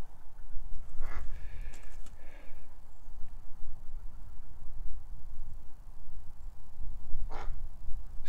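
A small, weak duckling gives a couple of brief quacks over a steady low rumble of background noise, with a faint thin call again near the end.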